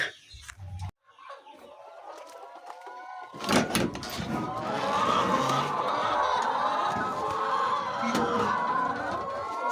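Old laying hens in a chicken house cluck in a dense, continuous flock chorus. It starts after a brief quiet moment and stays busy and fairly loud throughout.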